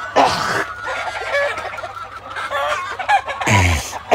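Local chickens on a poultry farm cluck and call loudly at close range, with a few sharper squawks breaking through the steady clucking and no human voices.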